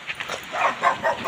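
A dog barks and yips in quick, short bursts, fairly close and brief.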